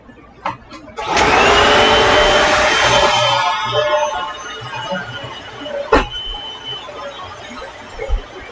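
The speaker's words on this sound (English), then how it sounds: "let's vacuum over there" A household vacuum cleaner, used for vacuuming floors at home, starts up with a loud steady whine that holds for a few seconds and then quietens, with a brief knock near the end.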